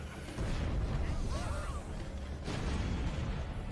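Bombs thrown and exploding in the Overlord 2 video game, a steady rumbling barrage of booms and bursts with a sharp blast near the middle, dense battle noise under faint voices.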